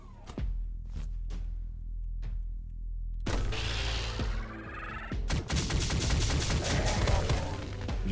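Heavy shotgun-style blasts from a first-person shooter video game, a few sharp reports followed by a dense, loud barrage of gunfire and explosions with rumbling low end.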